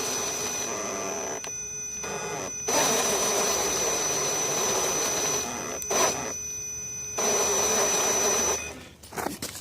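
Steady high electric whine from a Puller Pro 4274S brushless motor driving a Killer Wasp TRX4 RC crawler in second gear, running in long stretches broken by brief pauses, close and loud.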